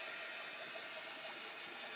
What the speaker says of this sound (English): I'm going to take my dryer and just dry this a little bit